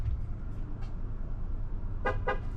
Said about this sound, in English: It's gonna honk.